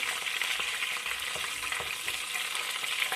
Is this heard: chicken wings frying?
yes